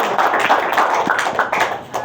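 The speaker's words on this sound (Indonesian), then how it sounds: "Aplaus untuk Anda." An office presentation audience in Jakarta gives a short burst of steady, dense hand clapping, close and fairly loud, with a voice faintly present.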